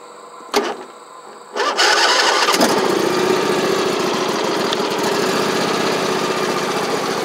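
A 2007 Husqvarna YTH2454 riding lawn mower engine cranks, then catches with a loud start and settles into a steady, rough idle, heard up close with no talking.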